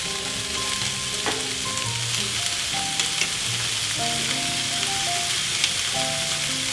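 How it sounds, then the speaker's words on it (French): Small onions sautéing Japanese-style in a pan and stirred with chopsticks: a dense, even hiss of sizzling close up, with scattered light taps and scrapes, and faint tonal background music underneath. "vous faites revenir vos petits oignons à la japonaise"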